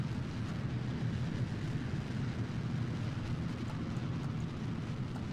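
Rocket engine throttling up in Kerbal Space Program, a loud steady low roar that fills the whole stretch without letting up, no voices over it.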